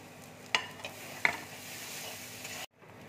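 Masala of Kashmiri chilli powder and salt frying in a pan for an egg curry with kasturi methi, a quiet steady sizzle with a couple of sharp spoon scrapes before cutting off near the end.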